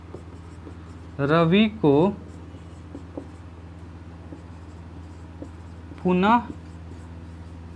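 A pen writes on paper with a faint, steady scratching that runs throughout, while someone speaks two short phrases over it.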